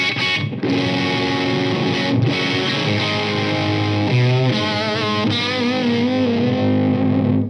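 A thick wall of heavily distorted electric guitar chords through a vintage Orange high-gain amp tone rings out loud and sustained, with shifting chord changes and no voices.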